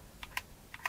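Buttons on a plastic gamepad with a rubberised coating are pressed four times, giving light, close plastic clicks spaced irregularly, with no talking.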